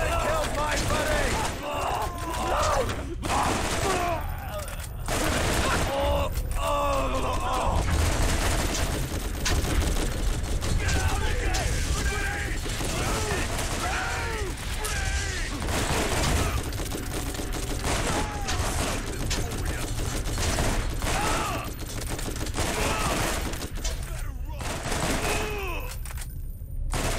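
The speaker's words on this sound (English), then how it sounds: "Keep shooting!" Rapid bursts of gunfire in the video game Borderlands, dense overlapping shots and automatic fire crackling almost nonstop, loud and close, with brief shouted voices mixed in.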